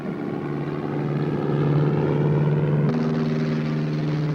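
A propeller observation plane drones in flight in a 1957 film, a steady loud engine hum with a sustained low tone that shifts pitch partway through, with no voices.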